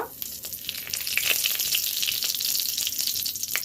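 Cumin seeds and a bay leaf fry in hot oil for vegetarian ghugni, a loud close sizzle with sharp crackles and pops scattered throughout.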